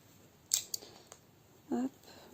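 Scissors snip cross-stitch embroidery thread up close, giving a couple of sharp, quick cuts followed by a short, soft rustle in an otherwise quiet room.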